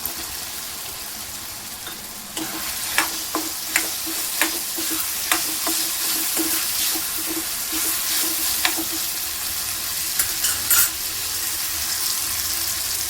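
Potatoes sizzling in hot oil in a pan for a guar and potato vegetable dish, a steady frying hiss with intermittent scraping and clinking of a spoon stirring, close by.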